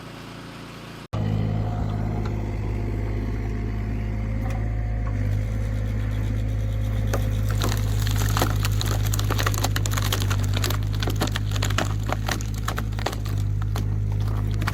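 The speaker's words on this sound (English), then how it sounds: "A man leans forward, carefully lowering a chainsaw. The engine roars, and the blade bites deep into the log." A chainsaw engine drones low and steady as it cuts through a tree log, with a dense crackle of splintering wood building after a few seconds, and no talk.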